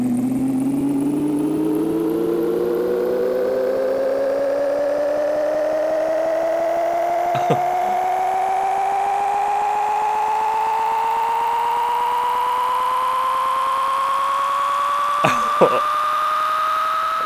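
Truck engine in the video game Big Rigs Over the Road Racing, a continuous loud synthetic whine that climbs steadily in pitch, with a couple of faint clicks.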